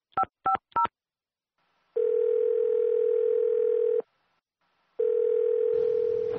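A telephone handset gives a few quick keypad beeps, then a loud, steady dial tone that holds for about two seconds, breaks off, and returns, with no voices.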